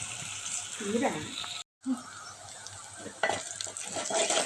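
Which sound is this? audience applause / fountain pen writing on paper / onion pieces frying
onion pieces frying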